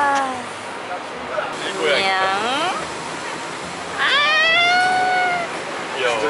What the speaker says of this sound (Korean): 안녕 고양이.